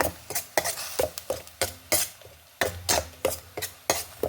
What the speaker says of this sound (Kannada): ಆನಿಯನ್ ಪೇಸ್ಟ್ ಹಾಕೊಂಡ್ಬಿಡ್ತಾ ಇದ್ದೆ. ಒಂಚೂರು ಹೀಗೆ ಫ್ರೈ ಮಾಡ್ಕೊಂಬ.